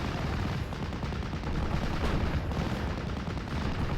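Gunfire and cannon fire in a WWII strategy video game, a dense continuous rattle of small-arms and machine-gun bursts with booming shots, fairly loud and steady with no talk.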